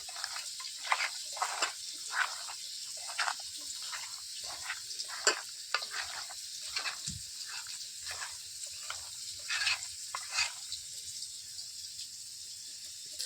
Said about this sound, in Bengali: এই দেখো আলুগুলো ভাজা হয়ে গেছে লাল লাল করে